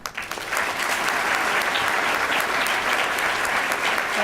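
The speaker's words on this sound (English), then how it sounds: "Let's give them a round of applause for taking time and taking an oath to protect us and our country." Steady audience applause at a student leadership awards ceremony, honoring people who took an oath to protect the country; sustained clapping fills the room, rising quickly and holding at an even, dense level throughout.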